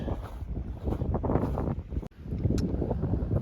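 Steady, loud wind gusting and buffeting the microphone among trees at Waiparous Creek, a roaring rumble with brief dips, no voices.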